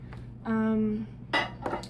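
Kitchen dishes clink while butter is microwaved: a sustained tonal hum or beep is followed by a couple of short, bright clinks, close by and alone.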